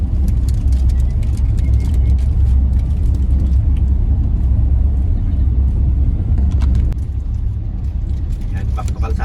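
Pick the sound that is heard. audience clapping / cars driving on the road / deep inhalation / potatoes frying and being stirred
cars driving on the road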